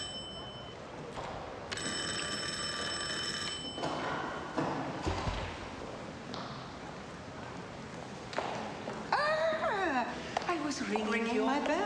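A bell rings at the door in a dramatic film scene, a bright repeated ringing burst near the start, followed by other room sounds and faint voices.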